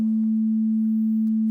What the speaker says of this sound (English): we're going to be going with the nice sine wave, because it's probably the most pleasant.